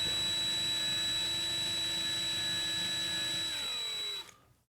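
A small power drill whines at a steady high pitch drilling a hole in a Hot Wheels Redline Dodge Charger model car, then winds down and stops near the end.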